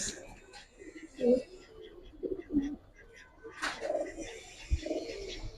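Giribaz and coloured pigeons cooing at a loft, several soft throaty coos in short bursts, close and fairly quiet, mixed with faint background rustle and occasional voices.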